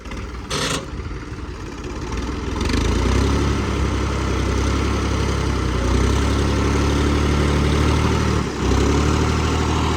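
A tractor engine runs at a steady, loud idle with a deep, continuous rumble and a brief dip near the end; no voices are heard.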